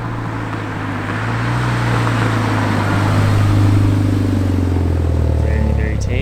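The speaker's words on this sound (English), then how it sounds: "All I can hear is the noise of the tire." A VW Golf MK6 GTI cruising gently past nearby houses, with steady low engine hum and broad tire roar on the road, continuous and moderately loud throughout.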